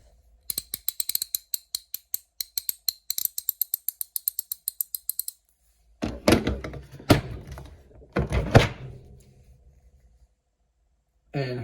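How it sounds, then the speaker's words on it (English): A 3/8 inch ratchet from a Hart 300-piece mechanics tool set clicks in a quick, even series of sharp ticks for about five seconds, then comes a few heavier metallic clunks and handling knocks. "pretty sure some people want to hear how the ratchets sound"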